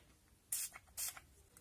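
Two quick, hissing bursts of Essence setting spray misted onto a flat makeup brush, close and crisp, each lasting about a quarter second with a short pause between.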